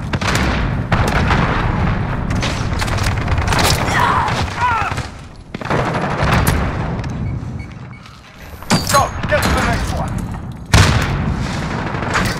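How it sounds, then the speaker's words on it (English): Heavy booming cruise missile explosions and rumbling blasts in Call of Duty Modern Warfare, loud and dense, with rolling impacts, brief pauses and a sharp final blast, a voice faintly under the battle. "Allied cruise missile away."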